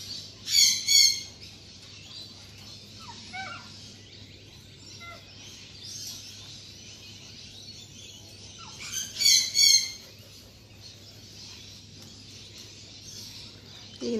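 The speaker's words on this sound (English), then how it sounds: "we've got a lot of the big blackbirds, the currawongs and the crows are down there this morning" Big black birds, currawongs and crows, calling outdoors in the morning: two short bursts of harsh squawking calls a few seconds apart, with faint scattered calls and a low background hum in between.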